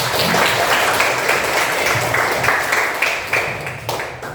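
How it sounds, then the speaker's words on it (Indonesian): Schoolchildren in a classroom clap for everyone at their teacher's prompt, a brisk crowded patter of hands that holds steady and then thins out toward the end. "tepuk tangan untuk semua"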